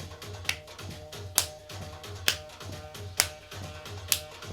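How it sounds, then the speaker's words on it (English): Hands clapping under a lifted thigh in a dance conditioning class, five crisp claps spaced about a second apart over a steady, thumping music beat, close and clear. "Clap under the thigh"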